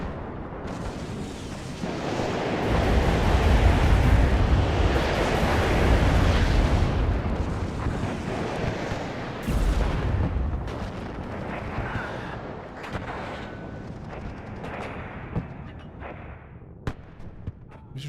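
Heavy bombing explosions and rumbling artillery fire in the WARNO wargame, a dense continuous barrage of booms that swells, then gives way to scattered sharper blasts and pops.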